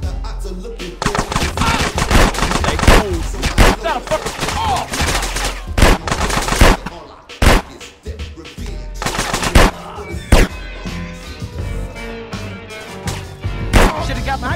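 Rapid gunfire from a GTA San Andreas Definitive Edition shootout: dense volleys of close, loud shots and automatic bursts keep hammering for nearly fifteen seconds, with short gaps between clusters.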